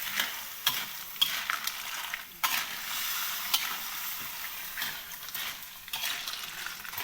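Clams stir-frying in a pan in a rustic Isan-style kitchen, a continuous loud sizzle broken by scraping stirs and clinks of the utensil against the pan.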